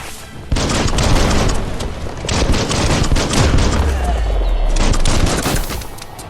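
Loud, dense gunfire from the video game Biomutant keeps going almost continuously for several seconds after a sudden start, with booming low thuds near the end.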